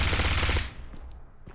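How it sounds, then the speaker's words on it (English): Automatic gunfire from the mobile shooter game Bullet Force: a loud sustained burst for over half a second, then scattered fainter single shots. "Someone is shooting at me."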